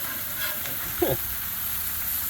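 Taylor ham searing on a Blackstone griddle gives a steady, close broadband sizzle that holds evenly throughout, with a brief faint voice-like murmur partway through.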